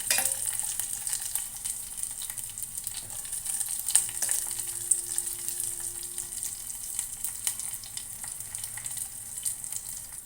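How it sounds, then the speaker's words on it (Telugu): Garlic tempering fries in hot oil in a pan for an amaranth-leaf dal, giving a steady, fairly quiet sizzle and hiss that runs unbroken through the whole stretch with no one talking. "తాలింపు వేగిపోయింది పప్పులో మనం వేసుకుందాము"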